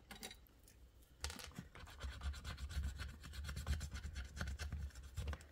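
Close, quiet scratching of a scratch-off envelope challenge ticket, with a rapid run of short rasping strokes that starts after a brief pause and continues steadily, with no talk.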